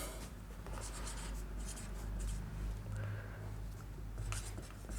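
Chalk or marker writing on a classroom board during a geography lesson, a soft scratchy stroking in short strokes over a steady background hum, fairly faint and close.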